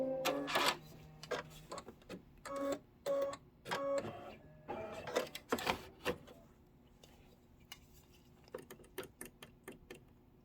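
A sewing machine stitching quilt pinwheel blocks, running in short mechanical bursts of rapid stitching separated by brief pauses, close and clear, fading to lighter intermittent clicks toward the end.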